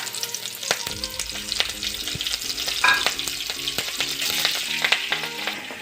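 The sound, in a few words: slit green chillies and cumin frying in oil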